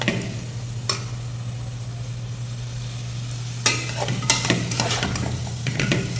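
Sliced onions softening in oil in a pan for garlic kulambu, a low steady sizzle over a hum, then a burst of louder stirring scrapes toward the end.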